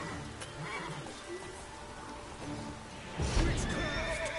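A horse whinnies in The Witcher 3: Wild Hunt, a short neigh amid game ambience, followed by a louder burst of hoof clatter and movement near the end.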